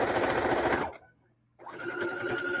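Sewing machine stitching along the edge of a fabric strip for a double-sided casserole pad, heard close up as a steady whirring run that breaks off briefly in the middle and then resumes.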